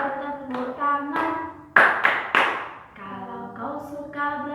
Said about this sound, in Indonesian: Kalau kau suka belajar, tepuk tangan.